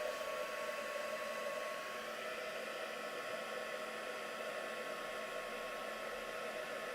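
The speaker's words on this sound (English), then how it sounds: "So let me just heat emboss this now." A heat embossing tool blows hot air over clear embossing powder on a card, making a steady, close, unbroken whirring rush of airflow for the whole stretch, with no talking.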